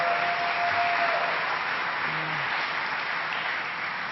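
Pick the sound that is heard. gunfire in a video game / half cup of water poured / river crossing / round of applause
round of applause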